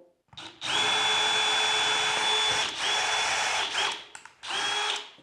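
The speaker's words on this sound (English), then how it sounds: "I'm going to drill a hole for our new cable" A power drill whines at high speed, boring a cable hole through a wall, steadily for a few seconds, pausing briefly, then starting again in short bursts, loud and close.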